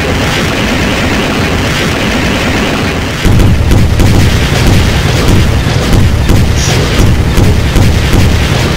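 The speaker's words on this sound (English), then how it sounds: "Watch, I'll fire one and wait even longer, and then I'll shoot a dozen." Rockets firing and exploding in Garry's Mod with a nuclear warfare mod, a dense, loud roaring rumble that surges abruptly partway through into heavier booming blasts.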